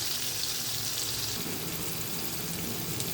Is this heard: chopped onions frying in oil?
yes